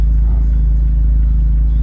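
A car engine labours under load on a test drive of an insurance write-off, a loud, steady low rumble that stays close and continuous throughout.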